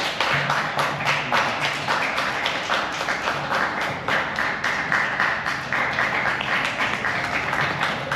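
A film festival audience at Tswa Film Festival 2025 claps to welcome a speaker to the stage, with dense, steady applause filling the room for several seconds without pause.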